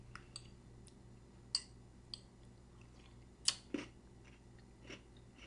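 Someone chewing homemade breakfast cereal softened in milk, a few sparse, close, quiet crunches and clicks spaced apart over a faint background.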